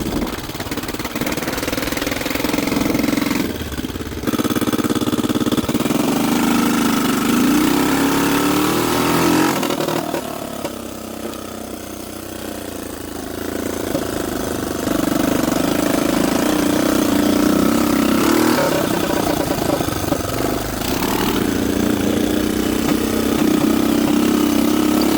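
The Big Red engine idling and running rough, needing exhaust work, with rattling bolts: a loud, close, steady mechanical rumble with a rattling chatter, dipping briefly a couple of times before settling back to a constant idle.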